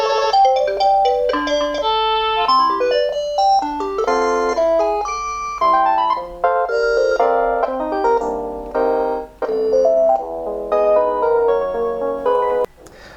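A Panasonic KX-TG6821 DECT cordless phone plays a melodic electronic ringtone, a bright tinkling tune of rapid notes repeating steadily and loudly for about thirteen seconds with no one talking.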